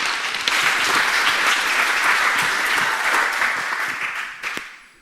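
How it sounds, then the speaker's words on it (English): A conference audience gives a speaker a hearty round of applause, loud, dense clapping from many hands that holds steady and then tapers off over the final second. "Give him a clap."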